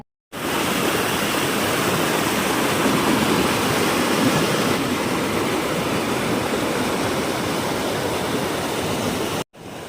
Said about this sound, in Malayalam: പെരിയാറിൻ്റെ ശക്തമായ ജലപ്രവാഹം കല്ലുകളുമായിട്ട് പൊരുതി നീങ്ങുന്നതിനാലാണ് ഇവിടെ പോര് എന്ന പേര് വന്നത്.